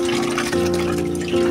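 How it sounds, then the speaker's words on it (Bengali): Water swishes steadily as dal lentils are washed in a kitchen, a close, continuous liquid sound with no talking. "কথা বলতে বলতে ডালটাকে ধুয়ে নিলাম"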